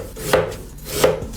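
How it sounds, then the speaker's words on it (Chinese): Knife blade strikes a cutting board twice while slicing scallion segments and ginger slices for a pork leg and peanut soup, two crisp, close chops spaced about 0.7 seconds apart, with no talking. "再切点葱段、姜片"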